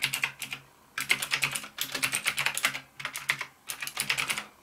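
Keys clatter on an NKEY R3 RGB mechanical keyboard in several quick bursts of crisp typing separated by short pauses, close and clear with no voice.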